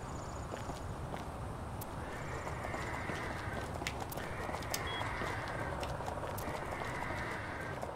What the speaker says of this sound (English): the horse was just making a noise